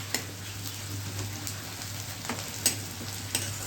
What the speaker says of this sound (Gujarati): તમે અંદર એ ડુંગળી નાખી શકો. હું વઘારમાં મૂકું છું